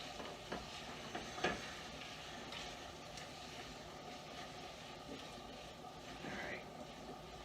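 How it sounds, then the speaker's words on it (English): Garlic and onions sizzle in a pan as broccoli soup gets started, a steady close hiss with a few sharp clinks and stirring knocks early on. "I just love the smell of garlic and onions cooking together."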